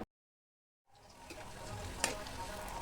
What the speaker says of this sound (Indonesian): Panaskan sedikit minyak di penggorengan. Tumis dulu tempenya ya yang udah diiris-iris tadi.